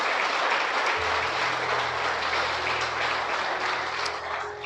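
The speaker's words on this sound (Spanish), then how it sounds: "Denle un aplauso a Cristo." A church congregation applauds for Christ during a Spanish-language sermon, broad steady clapping filling the room from start to finish, with a low organ or keyboard tone entering and sustaining underneath.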